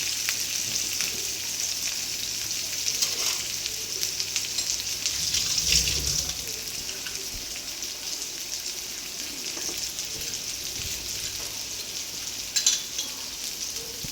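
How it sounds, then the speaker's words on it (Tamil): Onions sauté in oil in a pan for a jasmine chicken dish, a steady soft sizzle running throughout with a few stirring knocks and faint clatter. "வெங்காயம் நல்லா வதங்கட்டும்."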